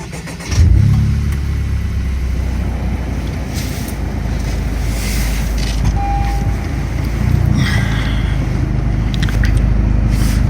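A Honda Civic Type R FK2 fires up with a low thump, then settles into a steady, close engine rumble that holds evenly, with a few faint clicks and shifts on top.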